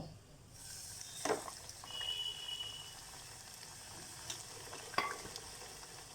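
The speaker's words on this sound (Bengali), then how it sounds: "এইভাবে আমি সবগুলোকেই ভেজে নেব।" Cheese samosas frying in oil give a soft, continuous bubbling sizzle with faint crackles and a couple of sharper pops. The sound is quiet and steady, with no voices.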